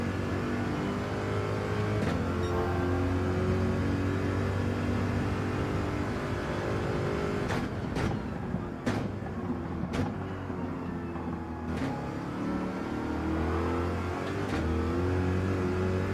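Gran Turismo GR.3 race car lapping the Daytona road course in the video game, a sustained loud engine note that dips as the throttle is lifted, then climbs again with rising revs.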